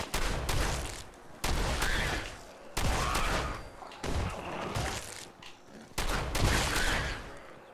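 Shotgun blasts in Fallout 4, five loud, sharp reports spaced about a second and a half apart, each with a heavy boom and a rumbling tail that fades before the next shot.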